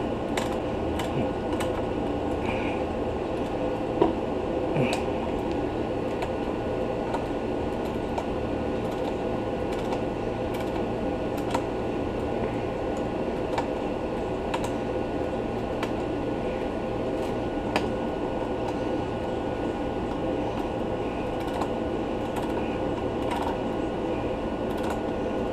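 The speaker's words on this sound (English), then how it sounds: "There ain't enough room for a wrench, so using my handy dandy ratchet wrench here." Sharp, quick clicks from a ratchet wrench working on a BMW 540i brake booster, scattered in short bursts over a steady background hum.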